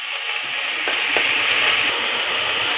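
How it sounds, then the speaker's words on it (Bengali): Shredded cabbage and other vegetables lightly frying in a pan for momo filling: a steady close sizzle with a couple of brief stirring clicks, no voices. "একটু হালকা ফ্রাই করে নিতে হবে।"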